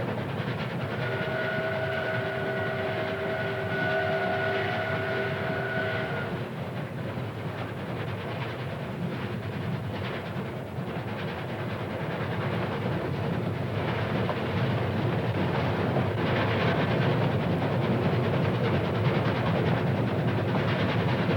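A CN/CPR steam locomotive hauling a train at full speed near Melville, Ontario, in 1959 gives a continuous loud roar and rumble. A steady whistle tone sounds over it for the first six seconds.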